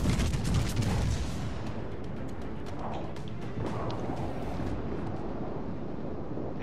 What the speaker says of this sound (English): I'm taking fire from the side now from a Colorado